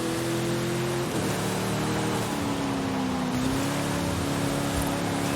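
Hoonicorn car racing through rain in Forza Horizon 5, a loud steady engine tone with shifting pitch over a constant hiss of rain and spray, with no talking.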